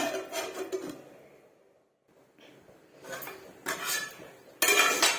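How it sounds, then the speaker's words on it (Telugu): A lid is set onto a cooking pot of simmering okra tamarind stew, giving a few sharp metallic clanks and scrapes, with the last one the loudest, separated by short quiet gaps. "ఇప్పుడు మూత పెట్టి ఇంకొక 5 నిమిషాలు మరగనిద్దాము"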